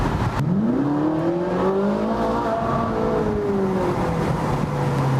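A Ferrari 458 Italia Spider accelerates hard with a rising engine howl, climbing through the revs with a brief shift midway, heard close and loud over road and wind noise, no talk.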